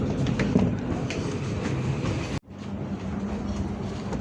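The KA Sangkuriang freight train pulls out of Bangil station with a loud, continuous rumble and rhythmic wheel clatter, briefly cut by a momentary dropout before the rolling noise resumes.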